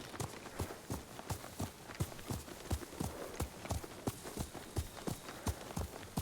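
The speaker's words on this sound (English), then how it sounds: "let's take the horse" Horse hooves galloping in the video game Ghost of Tsushima, a steady rapid rhythmic clip-clop of repeated thuds, loud and close over an ambient outdoor bed.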